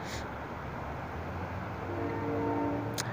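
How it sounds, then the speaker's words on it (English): A train rolls past an intersection on Holt Boulevard with a steady, loud rumble and a rising tonal hum toward the end, alone with no talk. "The sound of the train is coming from the north, though."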